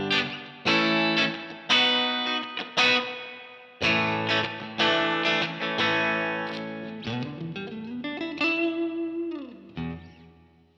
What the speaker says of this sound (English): because my user setting for this amp is already set for the clean sound that I like